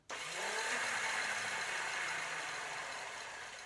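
Electric starter on a Honda CL350 motorcycle whirring steadily and spinning the hub without engaging the engine, a loud, continuous mechanical drone up close that slowly fades near the end.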